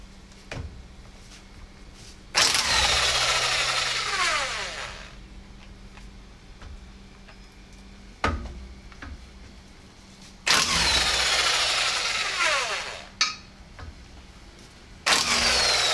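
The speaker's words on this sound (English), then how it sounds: "you will need the impact gun to take off these lug nuts here" An impact gun works lug nuts off a Scion xB wheel in three loud, sustained bursts of whirring and rattling, each a couple of seconds long, separated by quieter stretches with sharp clanks.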